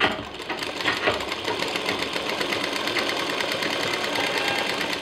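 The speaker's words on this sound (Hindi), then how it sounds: "एक साइड में आके पहले हम सिलाई करेंगे" Sewing machine stitching along the side of a hanging zip organiser with net panels, a steady continuous mechanical whir running close and moderately loud throughout without pauses.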